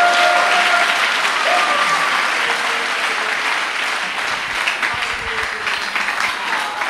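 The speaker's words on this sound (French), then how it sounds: "Est-ce qu'on peut acclamer le Saint-Esprit?" A church congregation at a Pentecost service breaks into loud, sustained applause and cheering, a dense wash of clapping that fills the room and slowly tapers toward the end.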